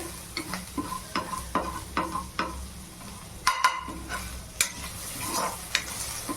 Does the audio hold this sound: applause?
no